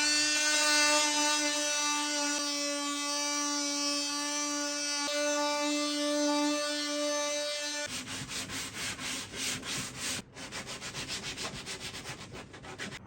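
A power sander works steadily over an old wooden furniture piece, giving a continuous whirring rasp that shifts to a rougher, choppier scrubbing partway through.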